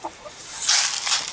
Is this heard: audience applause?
no